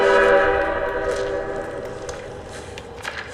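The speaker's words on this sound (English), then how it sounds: "Oh, indeed, the train's coming." A video game train approaches with a loud, sustained horn blast that slowly fades over a few seconds, with no talking.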